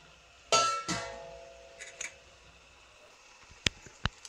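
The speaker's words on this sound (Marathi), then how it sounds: "हे बघा असं थोडंसं झाकण लावायचं आणि शिजवून घ्यायचं" A metal lid set down on a cooking pan while preparing spicy vajri masala, giving a couple of sharp clanks near the start, then a few lighter taps and two crisp clinks later, close and fairly quiet.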